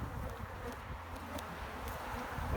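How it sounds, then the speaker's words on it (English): A steady, droning buzz of honey bees nesting in a chimney hovering close by, with faint rustling, and no talking. "I think I might start to get a bit mad with all these bees around me."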